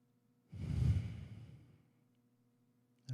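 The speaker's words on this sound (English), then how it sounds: "let's just take 1 second and take your deepest breath" A single deep breath, in and out, during a seated relaxation exercise, loud at first and then tapering off into quiet, with a faint noise starting at the very end.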